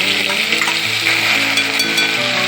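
Cumin seeds and asafoetida sizzle in hot oil for bhindi masala, a steady bright crackling fry that holds loud and even throughout with no talking.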